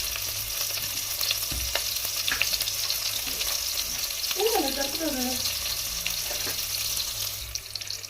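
Small onions, curry leaves, urad dal and cumin sizzle steadily in hot oil as a tempering for drumstick kara kuzhambu, with a soft continuous frying hiss and scattered stirring clinks. A short voice-like sound rises partway through.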